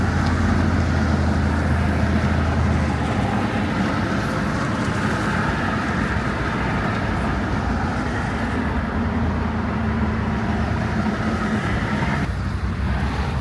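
A car cruises on a Los Angeles freeway with a steady, loud road and engine roar and a broad rush of traffic noise throughout, with no talking.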